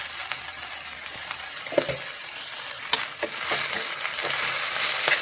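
Ponnaganti greens stirred with salt in a pan, a soft sizzle underneath scattered clinks and scrapes of a spoon against the metal, with a few sharper knocks, fairly quiet and close.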